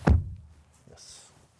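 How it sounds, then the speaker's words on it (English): A Renault 5 Electric car door shuts once with a single close, solid thunk, followed by faint rustling inside the small cabin. "Can I close the door?"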